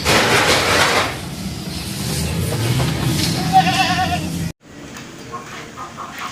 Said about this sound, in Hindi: ये कामूरी बकरी है